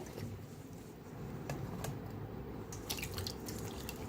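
Washed ridge gourd pieces are lifted out of a bowl of water, giving scattered soft drips and small wet splashes, faint and close, with no talk.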